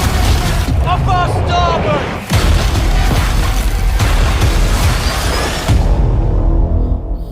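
Ship cannons fire in the video game Skull and Bones, heavy booming blasts under shouted dialogue and a dramatic musical score, with one sharp burst standing out midway.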